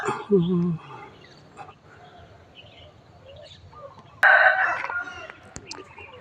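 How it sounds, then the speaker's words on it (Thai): A distant rooster crows twice, a fairly clear call at the start and another later, with soft background noise between the calls, in a rural temple area in Lampang, Thailand. "ได้ยินเสียงไก่ขัน ไกลๆนั้น"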